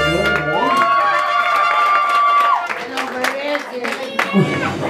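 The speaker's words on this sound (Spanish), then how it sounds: "Y ese aplauso." Applause and cheering from a crowd at a quinceañera celebration with a youth mariachi band, loud and sustained, with shouts and a long sung or whistled tone over the noise, fading into scattered crowd voices.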